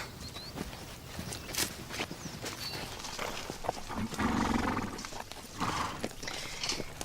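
Horses walk at a steady pace, hooves clip-clopping in an uneven rhythm at moderate distance, with rustling and outdoor ambience around them and no voices.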